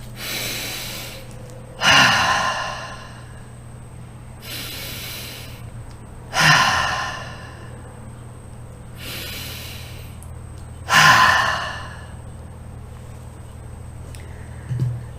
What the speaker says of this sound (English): please join me in 3 deep clearing breaths